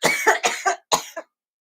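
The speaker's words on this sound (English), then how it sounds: "I'm still coughing." Several harsh coughs in quick succession, then a short pause and two more coughs, close and loud.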